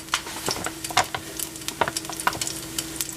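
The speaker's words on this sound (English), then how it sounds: "we're gonna put a few pinches of flour in there, and we're gonna stir like crazy" Flour stirred into hot fat for a roux scrapes and clicks in quick, irregular strokes over a soft sizzle, close and fairly quiet with no voices.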